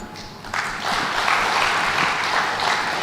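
Applause breaks out at a government literacy and sign-language launch ceremony, starting lightly then swelling into a loud, sustained crowd clapping that continues to the end.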